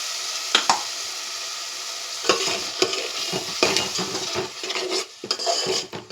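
Masala with coconut paste frying in a pan for bendakaya (okra) curry, a steady sizzle broken by several sharp scraping stirs of a spoon against the pan, close up with no talking.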